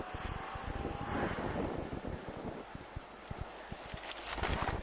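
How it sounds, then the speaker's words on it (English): Strong wind buffets the microphone with low rumbling gusts and thumps on a road in Siberia near Krasnoyarsk, loud and continuous throughout, no voices. "Very windy today."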